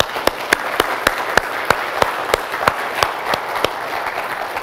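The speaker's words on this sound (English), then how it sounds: "we're going to do a round of applause for all those who prepared food on Thanksgiving" A church congregation applauds the people who prepared Thanksgiving food, a full, continuous wash of clapping with a few sharper, evenly spaced claps standing out in a steady rhythm.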